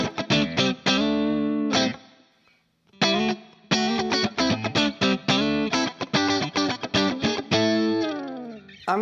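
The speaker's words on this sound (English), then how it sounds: "You can hear that spank." Bright, twangy electric guitar from a James Tyler JTG MK1, played alone in quick plucked notes and strummed chords with a short pause near two seconds, ringing clearly with some effects coloring the tone.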